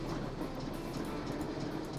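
A train rolls along its rails in the Nancy Drew video game Last Train to Blue Moon Canyon, giving a steady, even rumble with no voices.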